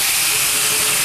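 Hot tomato sauce mixture steaming and hissing loudly in a pan, a steady close sizzle with no talk over it.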